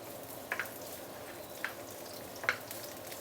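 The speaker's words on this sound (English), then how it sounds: "We're going to saute the chili to a little bit of curling up." Chili sautéing in sesame oil in a wok while cooking three cups chicken, a soft steady sizzle with a few brief sharp crackles and spatters standing out.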